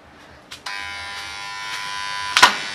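A hotel door keypad lock gives a steady electric buzz after the code is entered. Its sharp onset is followed by a continuous drone and a brief louder click near the end.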